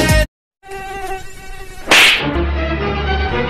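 A high, thin mosquito whine buzzes steadily near the ear, broken by a brief silence and then a sharp slap-like burst before the buzzing drones on, with no speech.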